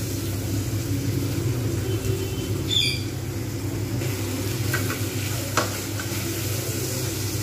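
Spices and tomatoes are stir-fried in a pan for a fish-head moong dal, a constant sizzle beneath repeated scraping strokes of a spatula, with a couple of sharper clinks and a brief squeak.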